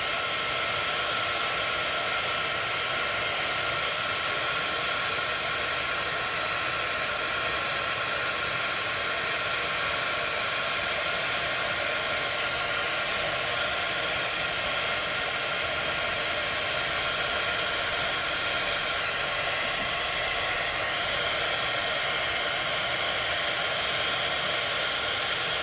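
A heat tool blows a steady, loud broadband roar without a break as it melts embossing powder crystals, with no talking.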